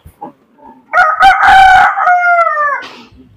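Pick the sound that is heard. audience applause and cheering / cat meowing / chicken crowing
chicken crowing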